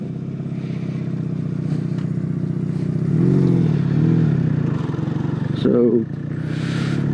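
Motorcycle ridden in winter, its engine droning steadily throughout with a couple of rev swells, under someone talking close to the mic.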